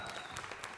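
Applause from an audience at a church gathering, a quick spatter of claps, faint and distant.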